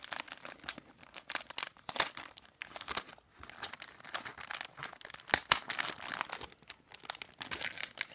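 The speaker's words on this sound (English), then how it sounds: "Sorry for the crinkling, everyone." Gift wrapping is torn and crinkled as a present is unwrapped, with close, irregular bursts of rustling and crumpling paper and no voices.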